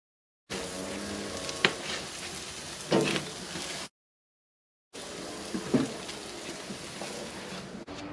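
Meat sizzling on a hot grill, a steady close hiss with a couple of brief taps and shifts, cut off by a short silence before the sizzle resumes.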